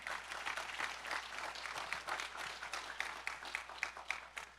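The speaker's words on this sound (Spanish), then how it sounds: "Un aplauso, Come on, give Jesús." Congregation in a church service applauding, steady dense clapping from many hands, fairly soft and distant, continuing without a break.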